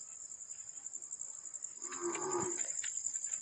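A cow moos at night in a village. One drawn-out low moo rises over a steady chorus of crickets, moderately close and fairly quiet.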